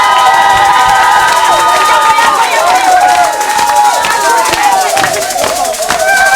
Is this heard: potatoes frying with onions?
no